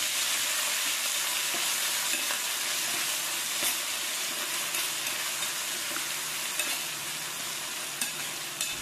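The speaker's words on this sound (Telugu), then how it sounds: "ఇవన్నీ బాగా వేగిన తరువాత చివరిగా కరివేపాకుని కూడా వేసుకుని బాగా" Dried red chillies and curry leaves fry in hot oil as a tempering for a crab curry, giving a steady, loud, continuous sizzle with occasional crackles throughout.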